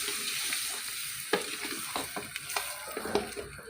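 Pieces of liver frying in a pan are stirred, giving a steady close sizzle broken by several sharp utensil scrapes and clinks against the pan.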